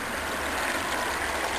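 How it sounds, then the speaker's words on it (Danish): Steady broadband rush of a brook flowing over sandy ground, close and constant throughout with no voices. "Her lige ned til bækken."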